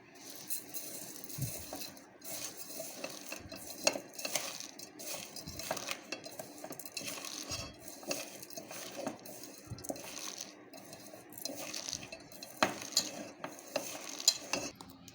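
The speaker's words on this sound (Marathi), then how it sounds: "शेव घालायची आणि मिक्स करून घेऊया." Fine sev is mixed into a cabbage stuffing for parathas, giving soft irregular scraping and stirring with occasional light clinks of a utensil against the bowl, quiet and close, with no talk.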